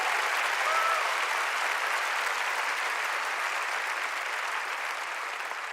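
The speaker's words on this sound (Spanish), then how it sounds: "Sí, apláudele al Señor." A church congregation claps together in sustained, loud applause during a sermon, a steady dense wash of hands with no talk over it.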